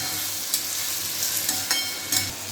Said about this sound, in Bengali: এবার আমি এটাকে একটু হাই ফ্লেম করে দিলাম, একটু ভাজা ভাজা